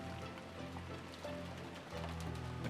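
Steady, gentle rainfall in the visual novel Rose Guns Days, a soft continuous patter that swells slightly toward the end, with no voices.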